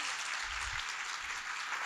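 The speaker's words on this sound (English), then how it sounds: "Please give me a round of applause in" A conference audience at a Bogleheads investor event claps in a broad, even wash of applause, steady and sustained from a mid-distance, with no voices over it.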